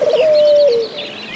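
A single pigeon coo, used as a sound effect in a spoken Breton folk tale, rings out clearly and alone as one sustained, steady call that fades at the end.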